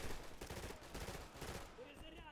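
Rapid automatic gunfire rattles continuously in the Easy Red 2 Stalingrad campaign, a high rate of fire in dense overlapping bursts with battlefield noise around it, loud and close throughout.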